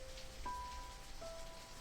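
Steady rain pattering on a roof on a quiet night, a soft, continuous wash of drops with faint tonal hums underneath, no voices.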